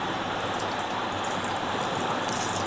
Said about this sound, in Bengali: এভাবে আমি সবকটা পিঠা ভেজে তুলব